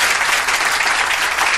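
Audience applause from a studio crowd, a dense, loud, steady wash of clapping that fills the whole brief moment with no voices over it.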